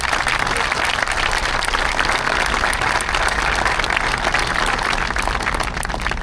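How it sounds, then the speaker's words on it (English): A large outdoor crowd at a Vietnam veterans memorial parade applauds the 25th Infantry Division Band, with steady, dense clapping that continues loud and unbroken throughout. "Please give them a big round of applause."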